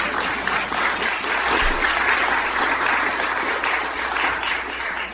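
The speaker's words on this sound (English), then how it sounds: "Why don't you applaud to let everybody know that you're here?" A crowd at Temple Israel breaks into applause, a loud, sustained wall of clapping that holds steady for several seconds before easing slightly at the end.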